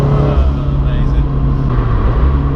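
A Toyota GT86 with forged engine internals, driven on winding blind-cornered roads, drops from fifth to fourth gear, its engine droning loudly with shifting tonal revs close inside the cabin.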